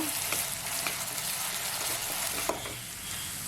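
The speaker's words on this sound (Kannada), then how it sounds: "ಈಗ ನಾನು ಒನ್ ಟೇಬಲ್ ಸ್ಪೂನಷ್ಟು ಶುಂಠಿ ಬೆಳ್ಳುಳ್ಳಿ ಪೇಸ್ಟ್ನ ಹಾಕ್ತಾಯಿದ್ದೀನಿ ಇದಕ್ಕೆ ಇದೆಲ್ಲ ಸ್ವಲ್ಪ ಹಸಿ ವಾಸನೆ ಹೋಗೋವರೆಗೂ ಚೆನ್ನಾಗಿ ಇದನ್ನು ಹುರ್ಕೋಬೇಕು" Ginger garlic paste frying with onion in a pan for egg masala: a soft, steady sizzle with a few faint clicks of stirring, at a low, even level throughout.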